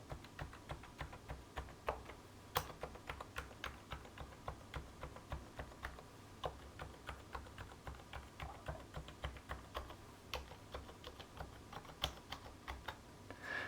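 Keys on a mechanical keyboard with an EC PCB are pressed one after another during calibration, a steady run of soft, close clicks and thocks at an even typing pace with no speech.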